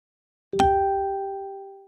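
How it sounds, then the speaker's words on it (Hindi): A mobile phone message notification rings out after a brief silence as one clear, bright chime that slowly fades away. "मेरे मोबाइल पर एक मैसेज आया"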